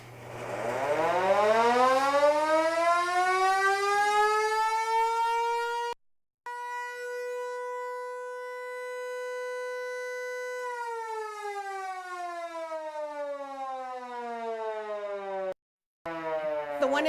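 A siren on a wired-for-sound carousel museum display winds up to a steady, loud wail, cuts out briefly, holds again, then slowly winds down before a second short break.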